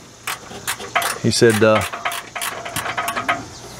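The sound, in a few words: removing the last bolt from a 5th wheel landing gear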